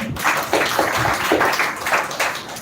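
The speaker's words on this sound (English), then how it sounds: "So once again, clap for her." Audience clapping at a spoken English speech competition semi-final on the dowry system, a short burst of loud, fairly even handclaps in a rhythmic pattern from a nearby group.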